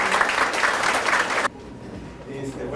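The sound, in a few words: applause for the speakers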